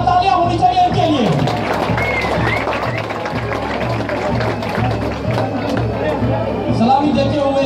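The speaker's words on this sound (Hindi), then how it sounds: "जोरदार तालियां होनी चाहिए इनके लिए" Crowd applauding at a sports gala opening ceremony in Bahawalnagar, a steady wash of clapping and hubbub with a loud announcer voice over a PA running through it.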